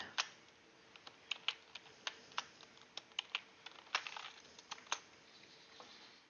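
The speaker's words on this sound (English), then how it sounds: "we'll type in the hex code" Computer keyboard keys tapped in a quick, irregular run of light clicks, close and fairly quiet, with no voices.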